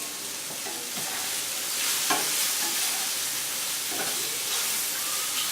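Ingredients sauté and sizzle in a pan during Thanksgiving cooking, a steady close hiss of frying with scraping stir strokes and brief clatters from a spatula throughout.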